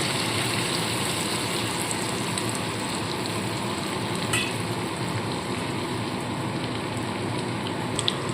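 Ash gourd (chalkumra) slices fry in hot oil, a dense, even, rain-like sizzle heard up close that holds steady throughout, with only a few faint clicks near the end and no talking.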